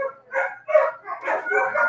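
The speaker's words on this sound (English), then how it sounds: "it made a lot of dogs really angry" Several dogs bark and yip in agitation within a video game's fire scene, short overlapping barks in quick bursts throughout, fairly close and moderately loud with no speech.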